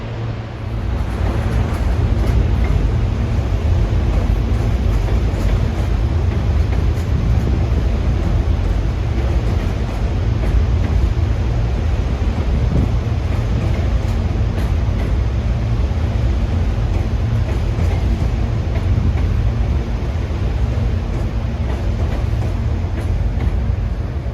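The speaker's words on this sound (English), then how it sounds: "That's 6594 with his long 6-car Silverliner 5 set, bound for beautiful Doylestown" A long six-car Silverliner 5 electric train, number 6594 bound for Doylestown, rolls past close by, producing a loud, steady low rumble with rattling undertones sustained throughout.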